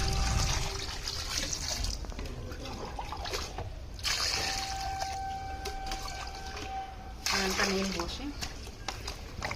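Freshly harvested turmeric being washed in water, with steady trickling, splashing and running water close by throughout, and a person talking over it.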